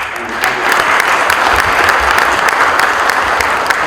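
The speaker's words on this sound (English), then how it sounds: "Round of applause, Anil." Sustained applause from a live audience at a startup initiative event, many hands clapping steadily and loudly throughout with no voices rising above it.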